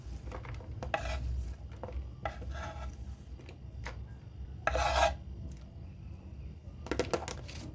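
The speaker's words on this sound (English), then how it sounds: "you're going to remove the skin and grate your carrot like so" Carrot grated by hand for a garden salad, rasping strokes in uneven bursts with short pauses between, close and fairly quiet.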